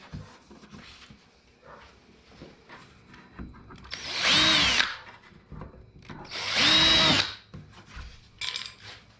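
Power drill driving screws to mount the metal bracket of an AZDOME PG18S dash cam mirror, two loud whirring bursts close by, with quieter handling noises between and no talking.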